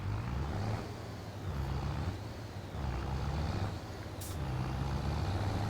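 Heavy farm vehicle, such as a grain cart tractor, driving in a farming video game, its low engine rumble rising and falling steadily with a brief hiss near the end, no talking.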